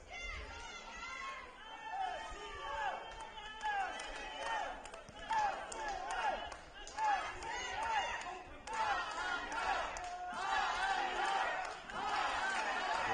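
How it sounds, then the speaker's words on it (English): Spectators in a rugby stadium roar and shout near the close of a Bundesliga match between Rugby Club Luxembourg and Heidelberger Ruderklub, a surging crowd din with whistles and chants rising and falling, heard beneath a commentator's steady talk. "The crowd is getting louder in this end of the game on both sides, HRK and RCL."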